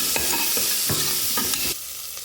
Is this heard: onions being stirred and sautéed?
yes